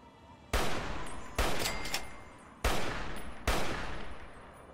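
Four loud, evenly spaced weapon shots fired in Fallout: A Tale of Two Wastelands, each a sharp crack with a ringing tail, heard close and alone without talk.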